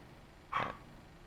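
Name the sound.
Pomeranian dog barking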